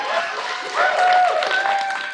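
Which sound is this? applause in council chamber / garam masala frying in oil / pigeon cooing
applause in council chamber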